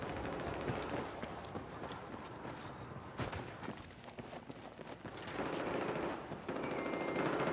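Pistol and other gunfire in a competitive 5v5 Domination shooting video game match on the Locker map, heard as rapid cracking shots over a busy, muffled layer of game noise and footsteps.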